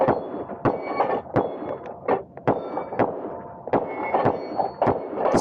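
Rapid series of about a dozen sharp pistol reports from a Walther steel-frame pistol, each followed by a brief metallic ring as rounds strike a steel dueling tree at an outdoor range.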